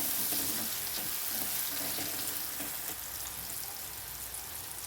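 Shredded cabbage with half a spoon of turmeric stirred in a frying pan, a steady close sizzle with soft scraping throughout, no talking.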